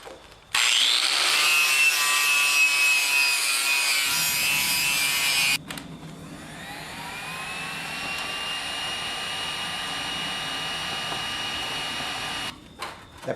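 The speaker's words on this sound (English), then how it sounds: "I'm just gonna have to grind this straight" A power grinder works on a part from an Allis Chalmers 310 tractor, a loud harsh grinding that stops abruptly and gives way to a high whine winding down, then a fresh burst near the end.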